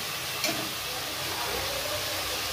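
Potatoes frying in a spiced masala, a steady moderate sizzle and hiss throughout with a brief stir-like clatter near the start.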